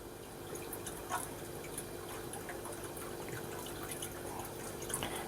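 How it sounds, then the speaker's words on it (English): A steady, soft trickle of a water solution pouring into an aquarium, with scattered small drips and splashes against a low constant background hum. "So now I'm going to add this to the flow in the tank."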